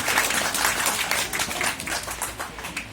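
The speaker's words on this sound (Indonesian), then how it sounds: "Tepuk tangan dong buat Gaga." A talk show audience breaks into dense, steady clapping for a nine-year-old child on stage, a continuous wash of applause lasting the whole stretch without any voices over it.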